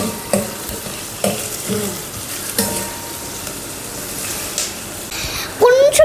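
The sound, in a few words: stirring onions, green chilies and cloves frying in pan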